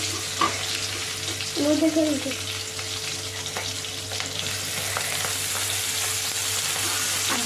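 Chillies and green onion sauté in a pan, a steady close sizzle with occasional stirring scrapes and clinks running evenly throughout, with no voices.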